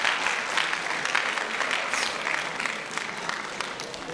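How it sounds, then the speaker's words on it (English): Audience at a talk giving a round of applause, a dense, steady patter of many hands clapping close by throughout, with no voices over it. "Round of applause for him."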